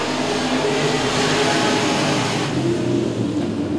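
B-Mod race cars at Princeton Speedway roaring as they accelerate together on a green-flag restart, a loud, dense, continuous engine blare with a slight rise in pitch partway through and no speech.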